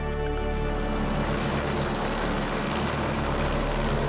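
A seaplane or helicopter flies near a remote Fiji island resort, its engine a loud, unbroken drone that fills the whole moment without any voices.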